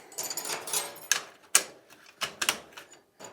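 Silver hardware pieces of a camping table clicking into place, a series of crisp, close clicks and rattles at an uneven rhythm, a few louder snaps among them, with no talking.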